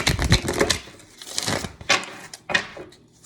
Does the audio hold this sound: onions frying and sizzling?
no